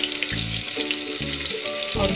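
Asafoetida, ginger, garlic and chopped onion frying in a pan, giving a steady close sizzle with a few low thumps and clunks over it, no talking.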